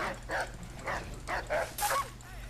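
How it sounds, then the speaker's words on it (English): Rabid dogs in Assassin's Creed 3 bark and yip in a quick run of six or seven sharp barks, fairly close and moderately loud over a low background hum. "Put down the rabid dogs."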